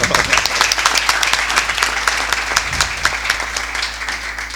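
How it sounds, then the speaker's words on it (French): A seated audience claps for a former Congolese karate champion, a loud, even burst of applause with distinct individual claps that continues throughout and eases slightly toward the end. "Ça s'applaudit, s'il vous plaît."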